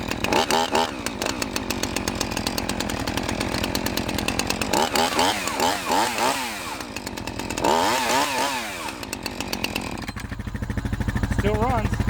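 A Husqvarna chainsaw runs nearby in loud snarling bursts that rev up and down repeatedly across the whole stretch, with a rising roar at the end.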